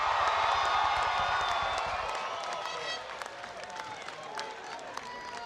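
A crowd of graduating students at a university commencement ceremony cheering and applauding, a dense roar of clapping and voices that gradually thins out.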